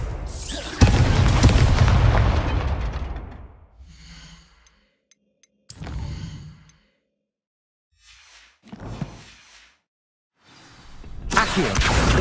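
Fiery Confringo spell blasts in the Hogwarts Legacy video game: a loud booming explosion with a long rumbling decay, followed by quieter whooshes and short bursts, then another heavy blast at the end.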